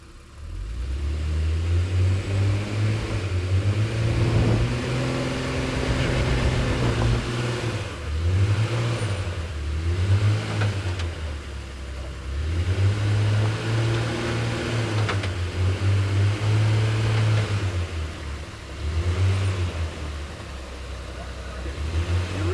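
A mid-sized Honda overlander's engine rises and falls in repeated revving swells while a rear wheel spins, loud and close, with the engine note sweeping up and down several times and a voice talking over it.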